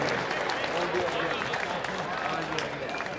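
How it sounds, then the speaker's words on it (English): Crowd applause at an MMA event in Hawaii after a unanimous decision is announced, a steady wash of clapping and crowd noise with a voice talking over it throughout. "And a round of applause for Kaeo Meyer."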